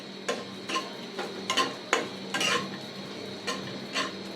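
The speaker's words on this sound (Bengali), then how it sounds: "এখন আমরা এই ঘিয়ের ভিতরে বাদামগুলো ভেজে নিব।" Nuts and raisins fry in ghee in a pan for zarda semai while a spoon repeatedly scrapes and clinks against the metal in an irregular rhythm over a faint sizzle.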